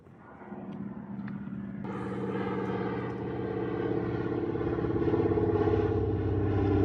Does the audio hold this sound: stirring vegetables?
no